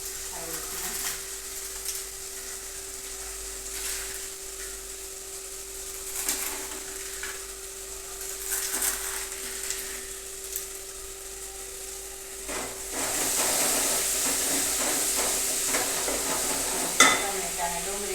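Chopped tomatoes and onions sizzle and fry in a pan for masala Maggi, a steady close crackle broken by scraping stirs and occasional clinks of a utensil against the pan, growing louder near the end.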